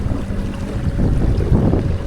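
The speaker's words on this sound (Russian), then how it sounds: "Сейчас идем с гротом и мотором." Sailing yacht on the Mediterranean under mainsail and motor, with a steady low engine hum, water rushing along the hull and wind buffeting the microphone, continuous and close.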